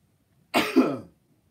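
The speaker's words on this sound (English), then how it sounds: "sorry for coughing" A single short, harsh cough from a congested person, close and clear, lasting about half a second against near silence.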